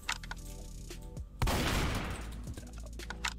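A burst of gunfire from the Roblox game Strucid erupts midway as a sharp, loud blast with a trailing rumble, set against softer game clicks and ambient tones.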